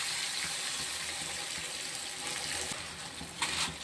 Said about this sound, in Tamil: புளி அரைச்சி வச்சுருக்கோம் அதை ஊற்றிக்கணும்